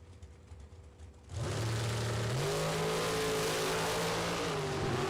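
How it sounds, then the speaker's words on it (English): Drag racing cars, one of them a ragtop Chevrolet Impala, launch at a drag strip with a sudden loud engine roar that holds steady and climbs in pitch, close and without talk. "Russ in the right lane. Out of New York, and Hansen in the ragtop Chevrolet Impala."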